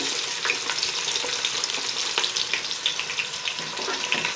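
Sliced onions fry steadily in hot oil for chicken biryani, a continuous dense sizzle with crackling pops and occasional stirring scrapes, close and fairly loud throughout with no talking.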